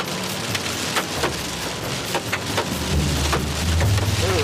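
A heavy storm with hail and rain hammering down: a dense, loud, steady patter of impacts, with a low rumble that swells toward the end.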